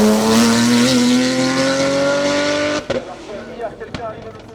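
A Porsche 991 R Turbo race car roars loudly up a hill climb course at Bagnols-Sabran, its engine note rising steadily under high revs before cutting sharply, followed by quieter mechanical pops and crackles.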